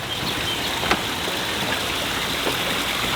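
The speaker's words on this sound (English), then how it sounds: "There's a beautiful waterfall over here." A waterfall at an RV park campground produces a steady, broad rushing of falling water, even and continuous, heard from nearby with no talk.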